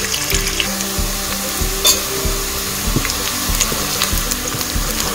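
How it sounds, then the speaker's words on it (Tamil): Onions frying and being stirred in a pan while cooking chicken biryani, a steady broadband sizzle with repeated scraping strokes and clinks of the spatula, close and moderately loud, no talking. "நல்லா ஆனியன் வதங்கட்டும்."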